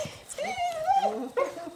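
A dog shut behind a door in a Toyota Coaster bus conversion whines and yips in rising, wavering cries, loud and close, with a second short whimper near the end.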